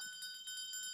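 A small bell from the film It's A Wonderful Life rings with bright, sustained metallic tones, softly struck several times in quick succession and fairly faint, with no speech over it.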